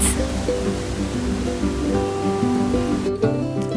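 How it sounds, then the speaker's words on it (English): Steady rushing water from a waterfall in Ecuador roars as a constant broadband wash, with faint tonal sounds drifting over it. "this is a very nice waterfall"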